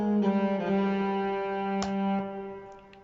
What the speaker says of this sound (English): Let me take out the EQ and the distortion and leave just the reverb.